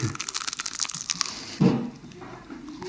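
Someone bites into crunchy homemade rissoles in the Bauges, Savoie, with a single loud, close crunch midway through amid faint rustling and clicking.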